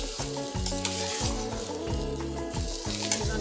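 Rice sizzling and frying in a spice masala as it is stirred for drumstick khichdi, a loud, close, continuous crackle in the pan with no talking.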